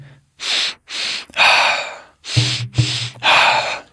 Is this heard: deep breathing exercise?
yes